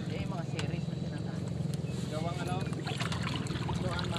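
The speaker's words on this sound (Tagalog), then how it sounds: "Ayan na yung alon, no?" Small waves lap and slosh against a fiberglass boat on open water, a steady near washing and trickling with occasional splashes, while people talk in the background.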